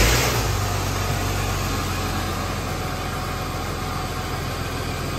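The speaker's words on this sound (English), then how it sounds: "now that we've got the car running" A car engine catches on a jump starter pack with a short burst at the start, then settles into a steady, fairly loud idle, a continuous low rumble with no one talking.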